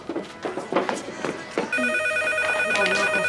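Indoors in a TV drama, people talk briefly before a telephone starts ringing partway through, its bright electronic trill repeating steadily and loudly to the end.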